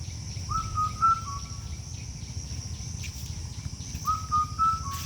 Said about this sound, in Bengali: এই পাখিটার ইংরেজি নাম হচ্ছে ইন্ডিয়ান কাকু যাকে বাংলায় বলা হয় বউ কথা কাও